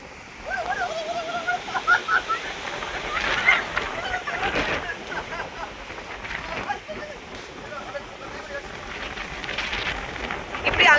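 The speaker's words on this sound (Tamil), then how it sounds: "காற்று எப்படி அடிக்குது பாருங்க" Strong wind gusts on a mountain road near Anaikatti rush with a continuous roaring hiss while people talk over it.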